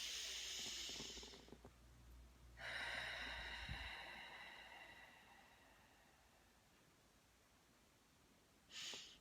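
A deep breath drawn in through the nose with a rushing hiss, then a long, slow, airy exhale that fades out, with another short breath in at the end; close and quiet with no talk.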